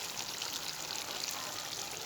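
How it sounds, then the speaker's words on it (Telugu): Half a glass of water is poured into chicken curry in a pan, giving a steady close-up splashing hiss that sizzles like frying throughout. "సో ఇప్పుడు వాటర్ యాడ్ చేద్దాం, ఒక హాఫ్ గ్లాస్"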